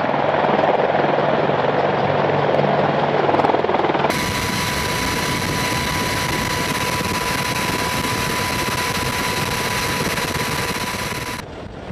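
Boeing AH-64 Apache attack helicopter, a loud steady rotor and turbine roar that fills the whole clip, with a sharp rise in high whine partway through as if the craft passes close.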